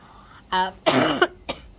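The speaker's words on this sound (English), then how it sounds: "Apologies for the cough." Two or three harsh, close coughs in quick succession, the middle one longest, with a short throaty sound trailing after.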